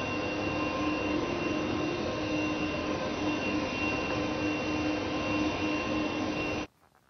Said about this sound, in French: Cet aspirateur balai sans fil a 50 minutes d'autonomie et il fait également 230 watts de puissance.